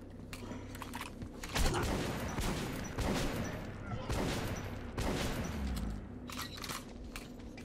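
Gunfire in Metro 2033 Redux comes as bursts of close shots and rattling volleys across the clip, layered with game ambience, while a player's voice talks at times.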